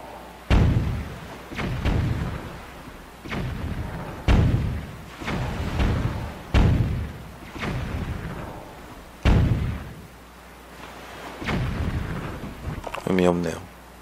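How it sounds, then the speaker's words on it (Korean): Heavy cannon blasts in The Legend of Zelda: The Wind Waker boom one after another, about eight deep thuds spaced a second or two apart, each trailing off, with a brief whirring effect near the end. "대포를 한번 써볼까요?"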